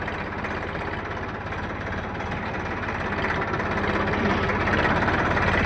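A 241 tractor engine labours steadily while reversing up a slope, a loud continuous low rumble that slowly grows louder toward the end.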